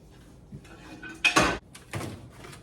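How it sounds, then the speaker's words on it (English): Pans of roasted vegetables are scraped and knocked against a bowl in a home kitchen, giving a few close metallic clatters and scrapes with short pauses between them. "I'm just gonna take our pans of roasted veg and put them in here"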